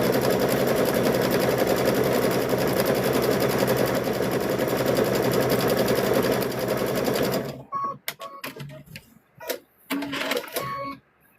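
A sewing machine runs continuously while stitching the flat side of a handmade stuffed bear, then stops and gives way to someone talking amid light handling sounds.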